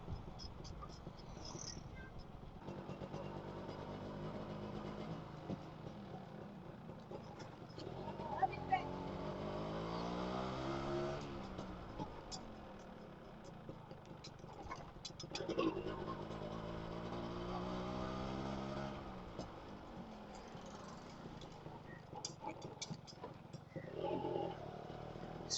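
A Yamaha RX 135 motorcycle engine runs throughout, its two-stroke note rising and falling through several revving sweeps, with a steady idle between them and talk partly over it.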